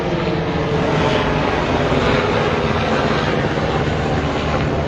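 Low-flying plane passing overhead, a loud continuous broadband engine roar that holds steady across the whole stretch, with no talking.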